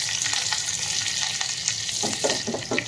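A tadka of dried red chillies, a pinch of hing and curry leaves sizzles in hot oil over a gas flame. The hiss is loud and close, with stirring clicks picking up near the end.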